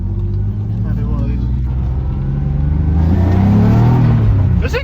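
A barn-find BMW E36, running again after seven years, revs hard through an acceleration pull. The engine note climbs loud and close in rising harmonic sweeps, with a brief shift and then a second climb, and speech is also picked up.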